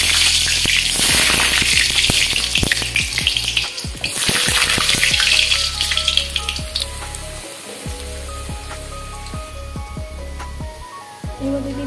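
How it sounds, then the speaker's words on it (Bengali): Potatoes hit a hot wok (kadai) and burst into loud sizzling frying, then settle into a steadier crackle with the clink and scrape of stirring, and no talk. "এদিকে কড়াই গরম হয়ে গেছে, দিয়ে দিচ্ছি আলুগুলো।"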